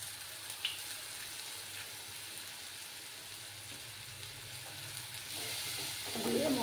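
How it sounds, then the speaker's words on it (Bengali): Masala spices sautéing in a hot pan give a faint, steady sizzle and hiss that runs evenly throughout, growing a little louder toward the end, with no one speaking. "আরও কিছুক্ষণ এইভাবে কষিয়ে নেব"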